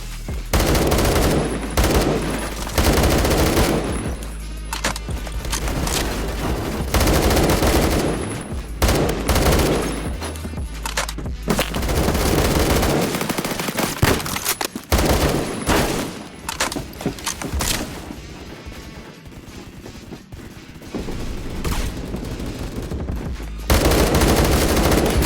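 Repeated bursts of AK12 rifle fire in a video game, loud and close, sharp rapid volleys separated by short pauses across a long stretch.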